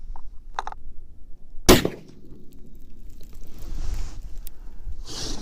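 A single sharp rifle shot cracks out from a T/C Compass .308 loaded with 44.4 grains of IMR4064 behind a 168-grain AMax bullet, followed by quiet outdoor ambience and faint rustling.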